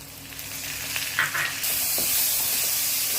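Onion, garlic and tomato sauté in a pan for Kerala chickpea curry, a steady frying hiss that swells louder partway through, with a couple of spatula scrapes and no talking.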